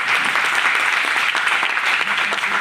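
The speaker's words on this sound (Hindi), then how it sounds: "तो दोनों लोगों के लिए ताली" Audience applause for two honoured guests at an Ozone Day celebration, steady, dense clapping that carries on without a break for the whole stretch, with a little background murmur.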